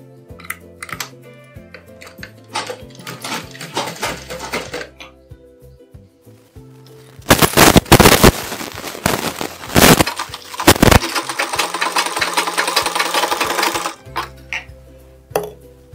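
A sewing machine runs a double stitch along a blouse lining, with rapid mechanical clatter in bursts, a long loud run in the middle and short pauses between, close by and with no talking.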